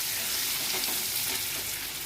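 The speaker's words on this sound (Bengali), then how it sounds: "এবার এগুলোকে ভালো করে নাড়াচাড়া দিয়ে এগুলোকে ভালো করে ভেজে নেব।" Papaya and potato pieces seasoned with salt and turmeric fry in a pan, giving a steady, close sizzle and crackle of hot oil with faint stirring, with no talk.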